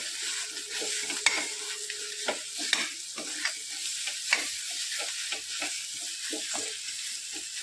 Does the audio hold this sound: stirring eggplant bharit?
yes